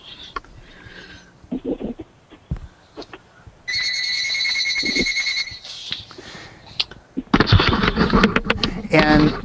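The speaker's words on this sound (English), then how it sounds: "Please answer your phone." A phone rings with a steady electronic tone that sounds for a couple of seconds and breaks off, mixed in with a person talking and some clattering sounds.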